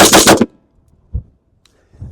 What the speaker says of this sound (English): we got 20 rounds of Tula Steel Case 223. We're just going to see how well